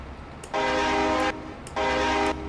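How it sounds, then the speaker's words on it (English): Two long, loud blasts from a TLX truck horn in Farming Simulator 22 that sounds exactly like a multi-tone train horn, each about three-quarters of a second, separated by a short gap. "it's a total train horn"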